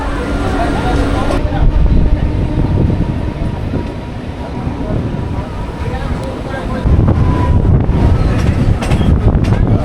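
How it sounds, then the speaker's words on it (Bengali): A train pulls out of Contai station heading toward Digha, its low rumble and rattling wagons loud and close, swelling near the end while wind buffets the microphone. "আর এখান থেকে আমাদের ট্রেন ছাড়বে আর আমরাও রওনা দেবো আস্তে আস্তে দীঘার উদ্দেশ্যে"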